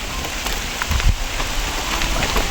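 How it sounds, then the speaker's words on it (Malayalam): Steady rain falls outdoors beside a caravan, a dense, even hiss of drops hitting the ground and nearby surfaces. It is close and continuous for the whole stretch, with no voices over it. "അയ്യേ നല്ല മഴ പെയ്യുന്നുണ്ട്."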